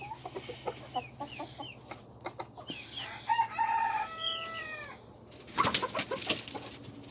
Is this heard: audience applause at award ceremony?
no